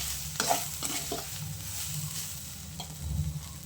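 Chili powder being mixed into a pan while making mutton sambar: a few sharp spoon scrapes and knocks over a low sizzle, close by, with no talking.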